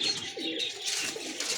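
Breeder pigeons, a good-quality female among them, give soft throaty coos that run steadily through a short stretch alongside some faint chirping, with no talk.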